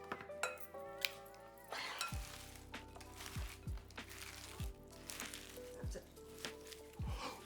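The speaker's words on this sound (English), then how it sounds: "And then we mix." A large salad is tossed with Greek dressing and raspberry vinaigrette, giving close, quiet clinks, scrapes and soft wet squishes in an irregular stirring rhythm, with a few low thumps against the bowl.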